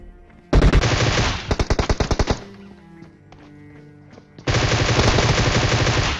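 Groza rifle fire in a video game: a loud burst of rapid automatic shots, a few quicker single cracks, a quieter gap with tonal game sounds, then another sustained burst, all close and without talk.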